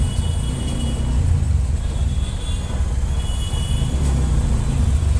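Dense city traffic near metro construction work: cars, buses and trucks roll past in a constant, loud, close engine roar, with a faint hiss of brakes and no talking.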